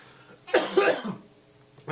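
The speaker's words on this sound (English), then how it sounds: "That's what's caused me to cough." A single harsh cough, close and fairly loud, trailing off into a short throat-clearing rasp, with quiet before and after.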